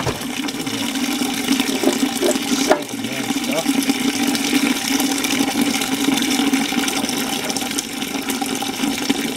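Water drains steadily from an antique tractor into a bucket, a continuous splashing rush with a low hum underneath and a brief clunk partway through.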